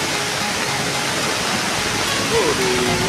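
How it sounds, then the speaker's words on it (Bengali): Waterfall at Cherrapunji in Meghalaya, a steady broadband rush of falling water at moderate level throughout, with a brief voice-like tone near the end. "এই দেখুন ঝর্ণা"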